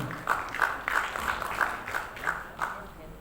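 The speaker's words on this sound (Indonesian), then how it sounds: "Boleh tepuk tangan yang meriah kepada beliau." Audience applause at an election discussion event in South Jakarta, a steady patter of clapping from a crowd that swells and fades in rhythmic bursts, heard close and moderately loud alongside ongoing talk.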